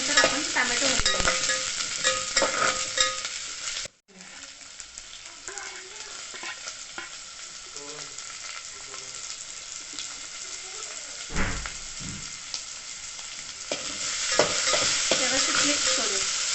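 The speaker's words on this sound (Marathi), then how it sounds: "कोबी 2 मिनिटं परतल्यानंतर आपण टोमॅटो घालूया।" Cabbage and tomato sautéing in a pan for veg paneer Maggi, a steady close sizzle with repeated stirring scrapes, briefly cut out early on, with no voices.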